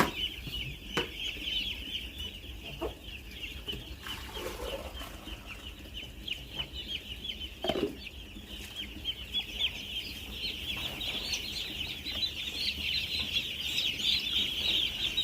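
Constant high-pitched cheeping of many chicks fills the space, with scattered clucks, a few soft thumps and rustles from a poultry house.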